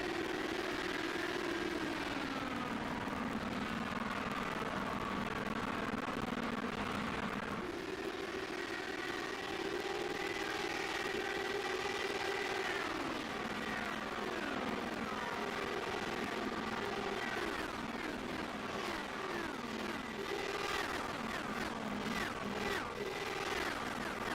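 Dallara IR18 IndyCar engines race at the Texas Motor Speedway in the iRacing video game, a loud, continuous high-revving whine that rises and falls through gear changes, with no talking.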